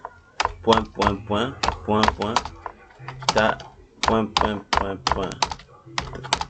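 Rapid clattering keystrokes on a computer keyboard come in close, irregular bursts while someone types a line of text in Microsoft Word, loud and crisp with short pauses between runs.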